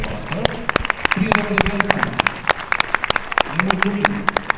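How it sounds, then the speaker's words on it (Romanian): A small group applauds the parents at a high school graduation ceremony: sharp, uneven individual claps at close range, with voices talking over them. "O să vă rog să aplaudăm și pe părinți prezenți aici pe față"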